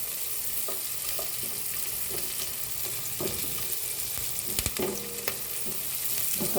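Garlic and onion sauté in butter in a pan, giving a continuous close sizzle with a few scattered taps of stirring and no voices.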